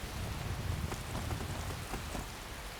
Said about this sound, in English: I'm riding along in the daytime, hoping the rain doesn't stop.